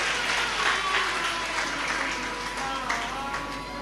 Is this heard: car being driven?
no